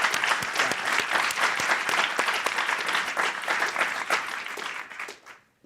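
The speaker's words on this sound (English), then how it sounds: "join me in a round of applause" Audience applause at a news conference on vascular medicine and medical tests, a steady, dense clapping from a sizeable room that fades out near the end.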